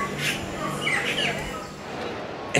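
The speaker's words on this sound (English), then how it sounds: "the crashing water bellowing a constant rhythm of peace and harmony among the chirping of happy birds" Birds chirp in short, scattered bursts at Iguazu Falls, bright calls rising over a steady broad wash of background noise.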